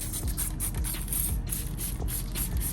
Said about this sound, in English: Let's go ahead and spray some on here.